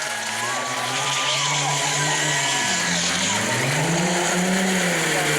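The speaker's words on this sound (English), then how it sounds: "Diaz blowing the tires off for you fans" A race car does a tire-blowing burnout at a burnout contest in New Smyrna: a loud, sustained engine roar with shifting pitch, mixed with screeching tire noise and a crowd-facing announcer talking over it.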